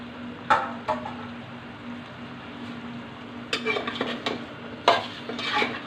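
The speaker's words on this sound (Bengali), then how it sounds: "এখন আমি ধুয়ে রাখা মাথাটা দিয়ে দিব এই যে রুই মাছের মাথা" A rohu fish head frying in a pan of spices, with a steady sizzle broken by sharp spoon-scrapes and stirring clatters near the start and again toward the end.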